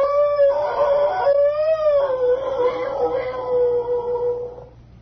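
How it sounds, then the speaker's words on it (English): A timber wolf howl is played as a radio sound effect: a long, wavering, rising and falling tone with several drawn-out swells, loud and alone, fading at the end. "By God, it's a timber wolf."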